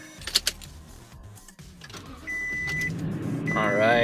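A 2019 Toyota Tundra 4X4 CrewMax Platinum pickup with a 5.7L engine starts up: after a few clicks and a brief electronic chime, the engine catches and settles into a steady, rising idle rumble heard from inside the cab.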